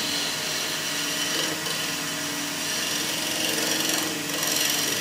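A wood lathe turns a natural-edge laburnum vessel while a gouge, held almost on its side, shaves the lower wing, giving a steady, close scraping hiss over the motor hum with no talk.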